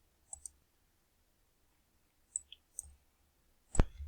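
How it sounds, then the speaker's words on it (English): A few sharp computer mouse clicks, quiet and close, spaced apart with a louder double click near the end. "Then you click on Jess"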